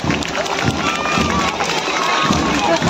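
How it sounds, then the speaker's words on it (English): Audience at a school cultural event claps and cheers loudly and steadily, a dense wash of applause with crowd noise and scattered voices throughout. "Please give them a big round of applause."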